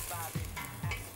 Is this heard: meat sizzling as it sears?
yes